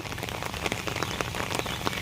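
Rain pattering steadily onto surfaces outdoors in the rural provinces at the start of the rainy season, dense close drips and splashes with irregular sharper drops throughout.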